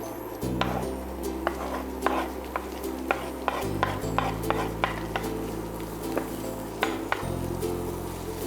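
Onion sautéing in butter in a pan, a soft sizzle under repeated clinks and scrapes of a utensil stirring against the pan, with a steady low hum beneath.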